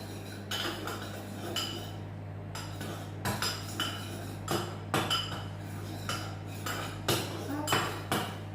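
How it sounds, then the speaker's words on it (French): A utensil stirs and scrapes a chocolate praliné mixture in a bowl, producing a steady series of light clinks and taps against the sides at a close distance over a low background hum. "Vous mettez dedans, vous mélangez bien pour que ça soit bien homogène."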